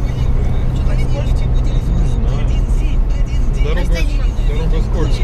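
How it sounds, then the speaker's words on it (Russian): A loud, steady car engine drones close by inside the vehicle as the driver presses the gas on a slippery road in Estonia, with someone talking over it. "Это я газую."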